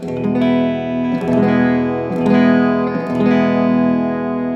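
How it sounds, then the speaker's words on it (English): Open chord strummed across all six strings of a guitar, four sustained strums about a second apart, each left to ring, loud and close with no talk. "now you're going to strum all 6 strings"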